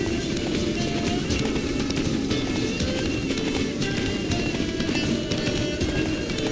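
A horse gallops in The Witcher 3, its hooves pounding in a fast, steady clip-clop rhythm, close and continuous, with no talk over it.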